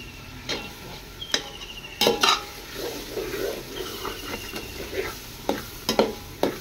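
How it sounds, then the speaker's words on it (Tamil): Carrots, peas, beans and potatoes sautéing in a pan, with a soft sizzle under repeated sharp scrapes and clinks of a spoon stirring against the metal. "அது கொஞ்சம் வதக்கி விட்டுக்கலாம்"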